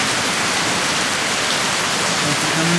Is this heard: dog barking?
no